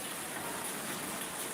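Rain falling steadily, a soft, even hiss of drops on a surface, faint and continuous without voices.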